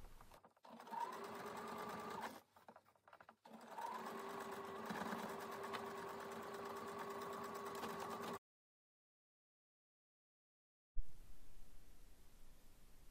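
A sewing machine runs along a bag seam in two steady close bursts with a brief pause between, then stops into silence before a faint hiss returns.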